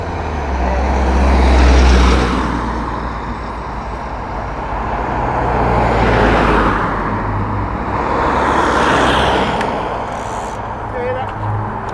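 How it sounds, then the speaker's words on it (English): Cars and other road traffic pass close by along a roadside near RIAT Fairford airshow during an evening bike ride, three rumbling swells rising and fading over a constant low road noise. "on the side of the road I'll get a few cars go past"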